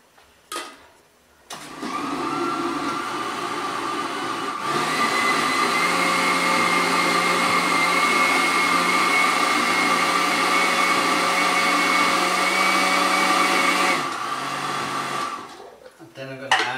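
A blender purées duck liver with a shallot, garlic and white wine reduction, starting up after a short pause, running as a loud steady whir that rises in pitch partway through, then cutting off near the end.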